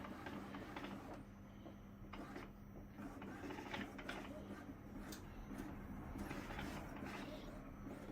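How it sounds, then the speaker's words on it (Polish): An Epson L365 inkjet printer runs a print head test, giving off steady mechanical whirring with rhythmic carriage clicks and shuttling, faint and close with low background hum throughout. "Czyli na komputerze robimy test głowicy, test druku głowicy i zobaczymy co nam wyjdzie."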